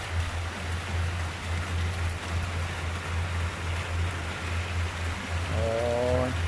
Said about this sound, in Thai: ตอนนี้ไม่แรงเท่าไหร่ครับ แต่วันนี้กระแสลมครับ กระแสลม เม็ดฝนมันเป็นฝนสาดครับ